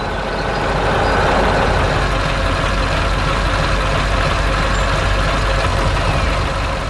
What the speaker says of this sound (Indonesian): Truk berwarna kuning sedang membawa log kayu ke tempat yang sangat cocok.